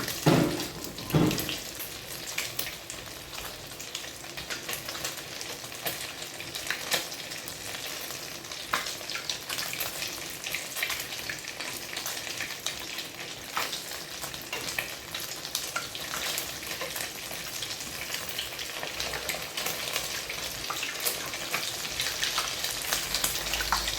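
Cheesy hotdogs on sticks fry in hot oil with a steady, dense sizzle and crackle for the whole stretch, close and fairly loud, with an occasional stir and no talking.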